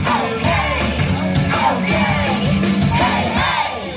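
Zombie performers at a LEGOLAND Florida Halloween show scream and yell continuously, loud and close, their overlapping shrieks rising and falling in waves with a crowd.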